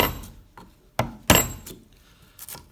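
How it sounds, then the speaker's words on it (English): A 25mm bench chisel gently tapped down into a wood corner: a few sharp, close knocks at uneven intervals, with quieter scraping and handling sounds between them. "I can get the chisel into the corner and just gently tap downwards."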